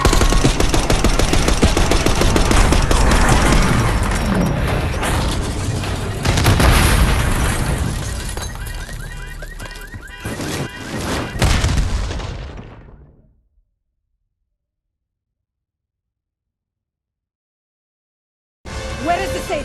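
Loud, dense bursts of automatic gunfire and booming explosions from the Call of Duty Black Ops 6 campaign, with shouted voices mixed in, continuing for about twelve seconds before cutting to silence, then a brief return of combat noise.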